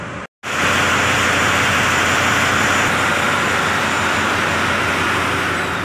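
A ship's engine runs, heard from the engine control room aboard the vessel Harmony One, a loud, steady broadband roar that sets in after a brief silence and holds constant throughout, with no talking.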